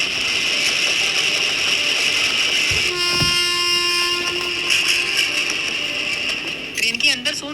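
A train running, a steady rumble and rattle of rail cars filling the whole stretch, with a long horn-like tonal sound partway through and a few sharp knocks near the end; voices are faintly present underneath.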